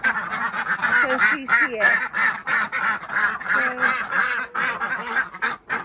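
Backyard ducks and geese quack and honk loudly and continuously in a dense, overlapping chorus up close during morning chores, with a brief bit of speech mixed in.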